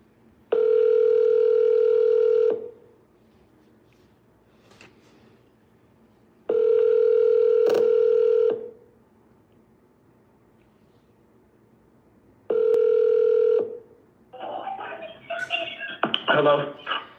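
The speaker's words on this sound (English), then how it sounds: "All right, let's call this lead then." Telephone ringback tone on an outgoing call, three evenly spaced two-second rings with quiet gaps between them, followed by a brief burst of clicks and noise as the line connects.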